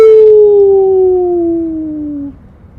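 Wolves or dogs give one long, loud howl with a steady, slowly falling pitch, holding for about two seconds before cutting off and leaving low background noise.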